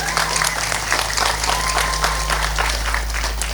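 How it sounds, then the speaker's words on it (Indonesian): Sustained audience applause at a religious sermon, dense steady clapping throughout with a faint hum underneath. "Tepuk tangannya kurang meriah."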